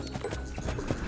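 A horse gallops away through a forest in a rapid clip-clop of hooves. The hoofbeats are quick and close, with no talking.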